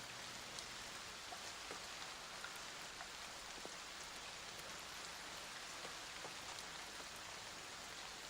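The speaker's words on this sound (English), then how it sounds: "you can hear the rain outside the hut get louder and louder" Steady rain falling outside a hut, a dense continuous patter with faint scattered drops, soft and even throughout with no voices.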